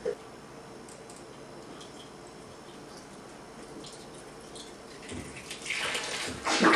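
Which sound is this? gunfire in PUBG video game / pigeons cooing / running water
running water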